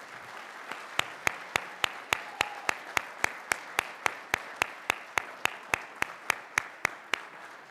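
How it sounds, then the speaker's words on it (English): Applause for young stair climbers at a board of directors meeting, heard as loud, sharp, evenly spaced claps in a steady rhythm, about three per second, dominating over faint background clapping. "If we can give them a round of applause"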